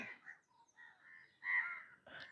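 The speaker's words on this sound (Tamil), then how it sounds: "இது குயில் இல்ல செம்பா" A greater coucal, or crow pheasant, calls near a new home in Jaffna: a few faint, harsh, raspy notes, the loudest near the end, with no other sound around them.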